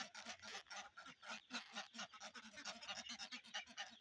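A flock of penned ducks quacks rapidly and repeatedly in overlapping bursts, a busy, fairly distant chorus with no talking over it.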